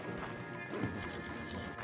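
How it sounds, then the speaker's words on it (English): Horse in the video game Red Dead Redemption 2, with soft clip-clopping hoof steps and faint snorting under a steady game ambience, quiet and close, with no talking. "Marston, you're gonna tether him up to Javier's horse"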